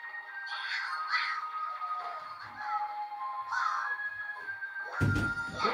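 Shrill, repeated squawks from the cat-gull creatures in Bowser's Fury ring out in several bursts over a steady game-music background, with a louder thump near the end.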